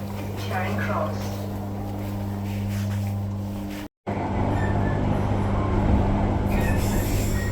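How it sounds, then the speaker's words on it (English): Steady rumble and hum of a train riding from Glasgow toward Loch Lomond, a continuous droning carriage noise with one brief dropout midway, loud and close throughout. "Going to catch a train over to Loch Lomond"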